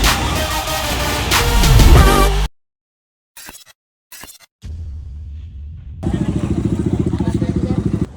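A motorcycle is held at a roadside police checkpoint. Its engine sounds loud and close in a rough burst, drops out, then returns with a steady buzzing idle.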